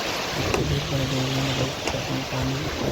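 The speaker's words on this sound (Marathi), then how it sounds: "पाण्याचा शोट पूर्णपणे वाढलेला आहे ओव्हरफ्लो झालेला आहे" Continuous heavy roar of Tapi River floodwater rushing through thirteen open gates of Prakasha Barrage, with a low droning tone running steadily underneath.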